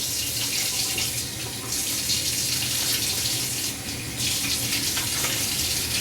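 Tap water runs steadily into a sink for a final rinse after a shave, a continuous splashing hiss with slight shifts in flow, no voices.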